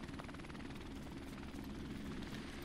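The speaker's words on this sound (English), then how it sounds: "after this helicopter, I won't use it" Helicopter killstreak in Call of Duty Modern Warfare Remastered: a steady, loud rotor thrum with rapid blade chop and engine whine, continuous and close throughout.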